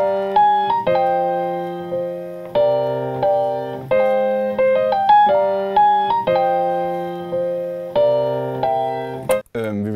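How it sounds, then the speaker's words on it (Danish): A piano plays a composed theme: a sequence of sustained chords and melody notes struck in a loose rhythm, each decaying before the next, close and clear with no talking. "Jeg satte mig og spillede noget klaver."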